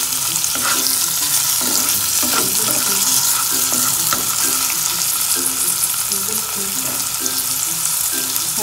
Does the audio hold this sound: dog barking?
no